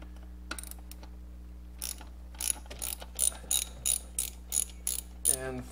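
Ratchet wrench loosening bolts on an LS6 engine, a run of quick clicking bursts at a steady rhythm after a quiet start, close and fairly crisp, no speech.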